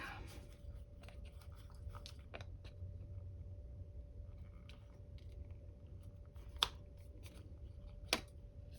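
Scissors snip a hole in a paper specimen tag, a few quiet crisp cuts with two sharper clicks late on, over a faint steady hum.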